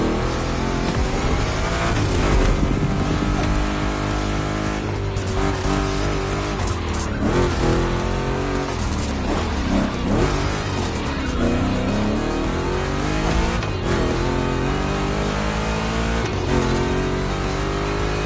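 Two Chevy big-block race car engines in The Crew Motorfest, revving hard and roaring continuously with shifting pitch and tire squeal as they accelerate through turns, loud and up close.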